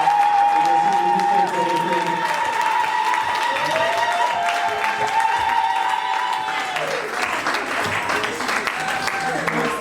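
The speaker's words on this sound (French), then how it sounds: "Est-ce qu'on peut les applaudir bien fort?" Audience applauding and cheering at a live event, continuous clapping with shouts and whistles over a sustained tonal backing, the crowd noise swelling in the second half.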